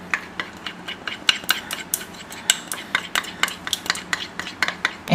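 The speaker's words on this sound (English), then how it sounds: "you can also give that a little whisk. I'm going to use a spoon" A spoon clinks and scrapes steadily in a bowl, whisking a lime juice and honey dressing for a fruit salad, with quick irregular taps close by and no talk.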